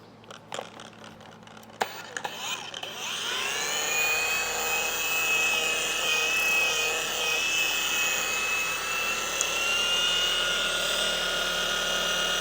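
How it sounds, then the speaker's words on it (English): A machine polisher with a pad and finishing polish works on plastic car trim: after a few handling knocks it spins up into a loud, steady, high-pitched whine that holds for several seconds. "Let's polish that. Stick with the same pad, same finishing polish."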